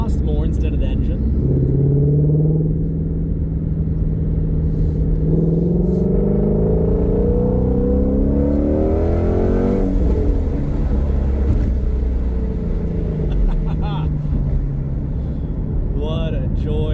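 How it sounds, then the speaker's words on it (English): Ford Mustang Shelby GT350 exhaust rumbling steadily while driving, a low growl that rises and falls in pitch as revs climb, heard from inside with the window down, with someone talking over it throughout. "you can hear the exhaust more instead of the engine"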